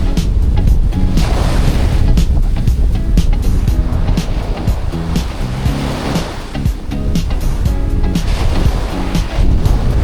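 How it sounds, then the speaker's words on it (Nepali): Ocean waves crash onto the shore at North Shore, Oahu, Hawaii, a loud, continuous roar of surf with wind buffeting the microphone and swells of heavier breaking water. "यो जब यो वेभ आएर चाहिँ क्रास हुन्छ नि त्यो इम्प्याक्ट सही आवाज"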